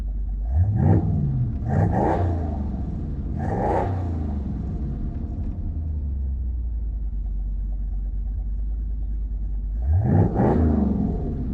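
A 1976 Ford Ranchero 500 engine revs in four loud bursts, three in quick succession then a pause of steady low idle rumble before a final rev, close by with no talk.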